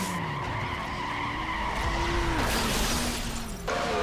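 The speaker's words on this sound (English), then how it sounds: "testing your control of the car as you drift around corners trying to chain combos for higher scores" A car drifting around corners in the NFS Underground racing game, its tires screeching in a long continuous skid over the steady engine roar, loud and close, with no talking.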